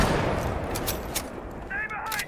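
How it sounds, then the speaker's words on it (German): A sniper rifle shot punches through a wall in Rainbow Six Siege, loud and close, its sharp crack followed by bursts of distant gunfire over a constant noisy game background. "Ich hab mal durch die Wand geschossen"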